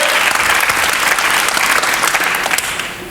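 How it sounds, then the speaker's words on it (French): A television studio audience applauds in a steady, dense roar of clapping that stays loud throughout and eases slightly at the end. "Merci pour les applaudissements."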